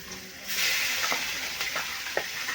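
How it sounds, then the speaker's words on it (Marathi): Mustard seeds, asafoetida and spices dropped into hot oil for vada pav, a loud sudden sizzle that keeps hissing steadily with faint stirring clicks. "त्यांचा चमचा मोहरी टाकायची आहे आपल्याला आणि हिंग मसाला आपला सगळं टाकलेला आहे याच्यामध्ये ते आपल्याला टाकून घ्यायचं आहे"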